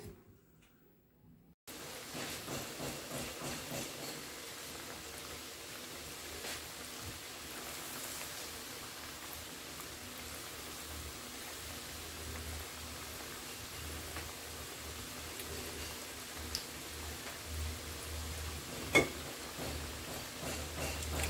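Balah el sham dough sizzles steadily as it fries in oil that started cold, a dense, even crackle and hiss that begins abruptly and continues with occasional small pops.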